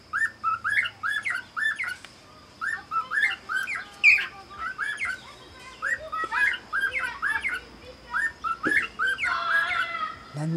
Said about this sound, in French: un petit oiseau sauvage qui vient prendre son repas